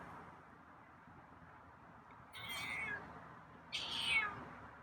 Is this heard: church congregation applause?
no